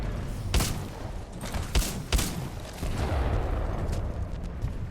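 Weapon fire in the shooter game Titanfall 2: several sharp, punchy shots land at irregular intervals over a rumbling battle background, with a denser stretch of fire toward the end.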